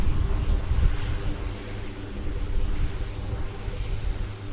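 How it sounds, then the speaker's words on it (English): An F-35 jet at the Royal International Air Tattoo air show, a steady broad engine roar heard from a distance with a constant rumble and no sharp peaks. "But it is the F-35 which will be first to depart."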